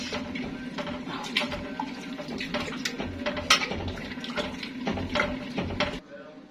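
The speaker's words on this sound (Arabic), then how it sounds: "هروح نازله عليه بشويه ميه من الحنفيه" Tap water runs steadily from a kitchen faucet onto boiled cabbage leaves, a continuous splashing stream with irregular bright spatters that keeps going for about six seconds and then stops abruptly.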